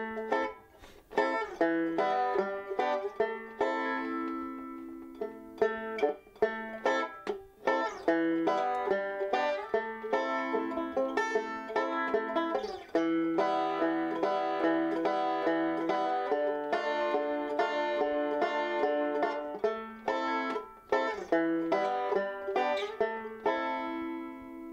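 Banjo picking with bass notes and plucked strings, a continuous bright melodic passage of crisp picked notes over about twenty-five seconds, close and steady with no voices.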